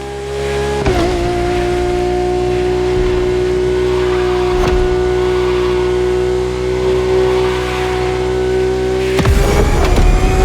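A Lamborghini's engine in the racing video game The Crew Motorfest holds a loud, close, sustained high drone, with a gear-shift drop near the start and a sharp change near the end.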